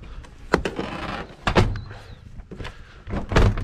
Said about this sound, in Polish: Profesjonalny montaż drzwi to się nazywa.